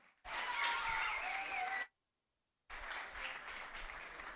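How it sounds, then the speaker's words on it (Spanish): An audience at a singing competition semi-final applauds singers Esteban and María Arroyo, a burst of dense clapping that cuts to silence briefly, then resumes steadily. "Fuerte ese aplauso para Esteban y María Arroyo."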